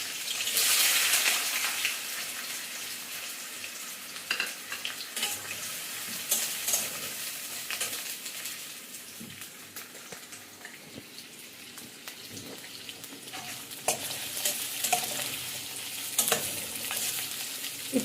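Onions sizzle in hot oil in a heated kadai, a loud initial hiss settling into a steady crackle with intermittent spatula stirring and scraping throughout.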